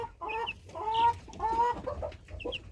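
Chicks and broiler chickens cluck and chirp in a poultry yard on a cold day, a run of close, moderately loud calls with a few brighter, higher notes and no talking.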